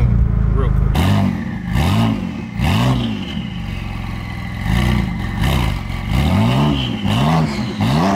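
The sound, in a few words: loud car engine revving, likely Lamborghini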